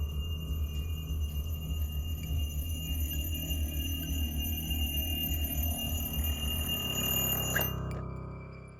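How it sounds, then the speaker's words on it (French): A bedside alarm clock going off on its own, a steady electronic pulsing beep repeating continuously and fairly loud for several seconds before cutting off abruptly near the end. "ce réveil qui s'actionne"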